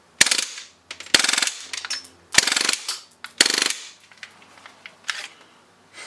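A Knuckles Customs full-auto BB gun fires several short rattling bursts at close range, with sharp mechanical clatter and brief pauses between strings.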